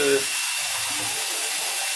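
An electric drill fitted with a paint mixer attachment whirs steadily in liquid, a loud continuous high-pitched churning hiss with a brief lower motor tone at the start, a voice faintly underneath.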